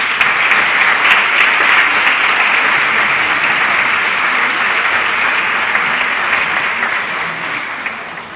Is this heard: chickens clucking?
no